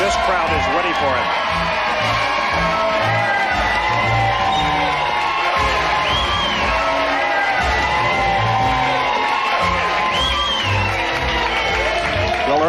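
A crowd cheers and whoops for Ernest at Splash Mountain, loud shouting and rowdy voices mixed with rhythmic thumping, people talking over the din.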